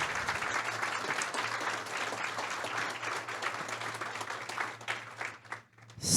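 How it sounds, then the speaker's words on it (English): Audience applause after a palliative care and spirituality talk, a dense steady wash of many hands clapping for about five seconds, then thinning out and fading to near silence. "Let's give them a round of applause."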